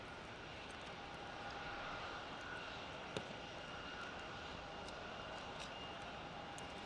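An aircraft taxis at Melbourne Airport, giving a faint, steady, distant engine drone over outdoor ambience, broken by one brief sharp click midway.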